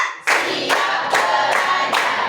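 A group of children in a classroom claps in time to a count, four or five evenly spaced bursts of collective hand clapping, close and lively.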